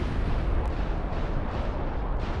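Battleship artillery in a strategy video game pounds in a dense, continuous rumble of overlapping booming blasts, loud and unbroken, with no voices over it.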